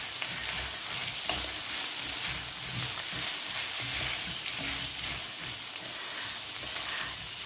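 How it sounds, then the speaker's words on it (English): Pork and chickpea stew sizzling loudly and evenly in a pot, a dense, constant frying hiss with faint stirring movement underneath and no voices. "And just give that a stir."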